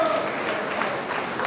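Applause at a Jain religious assembly, a dense, even wash of clapping from a crowd over a short stretch, with a faint voice or tone audible at the start.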